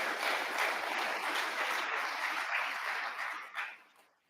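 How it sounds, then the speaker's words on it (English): An audience at a State of the City 2024 address applauds with dense, even clapping. It is moderately loud at first, then tapers off and fades out toward the end. "This resource, you can clap for that."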